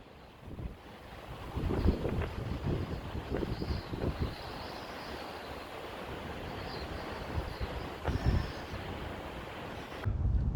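Steady outdoor wind rushes and buffets the microphone for the whole stretch, gusting louder in places, with a watery, open-air background and no talking.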